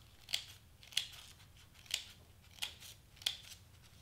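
Scissors cut through filling material while a headband is assembled. Five crisp, close snips come at an irregular pace over a quiet background.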